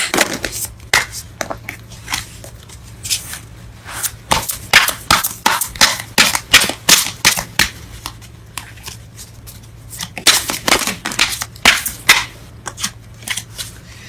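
Tarot cards are shuffled close up during a reading, with crisp riffling and slapping bursts in quick irregular clusters. The shuffling pauses briefly midway, then resumes.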